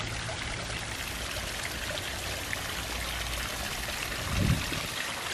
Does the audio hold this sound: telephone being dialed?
no